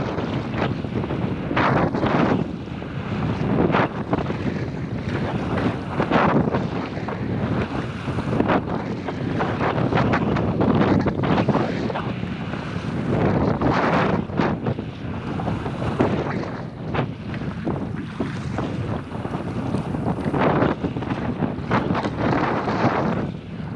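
Strong wind buffets the microphone on open water while a Pungo 140 kayak is paddled on a windy day, a continuous roaring rush with gusty swells and faint splashing of waves throughout.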